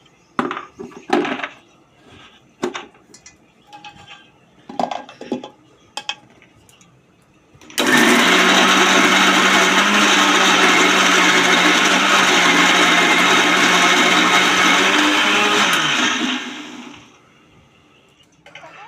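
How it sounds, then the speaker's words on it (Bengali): A few scattered clinks and soft knocks, then a loud mixer grinder whirs steadily for about eight seconds grinding green chillies before spinning down into quieter clatter. "কাঁচা লঙ্কা যেহেতু বাটতে পারি না বলে মিক্সিতেই আমি ঘুরিয়ে নিলাম"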